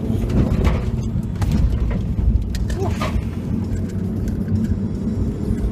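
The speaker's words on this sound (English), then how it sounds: "That was a good skid." A car in the video game MT Garage skids under turbo boost, a steady loud engine roar and rumbling tire noise running throughout with brief sharper bursts, no talk over it.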